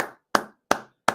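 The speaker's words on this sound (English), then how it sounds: "Round of applause for Chelsea." Four slow, crisp single hand claps, evenly spaced and close, each a sharp smack with a short fading tail, alone with no talking.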